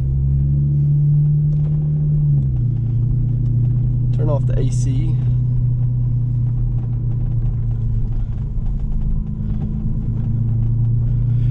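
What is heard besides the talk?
Genesis Coupe driving slowly down a rough cratered driveway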